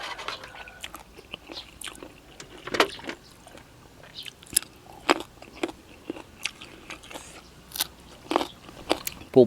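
Fresh chilies being bitten and chewed while eating a spicy Isan koi dish give close, repeated crisp crunches and wet chewing at an irregular pace, with no talking.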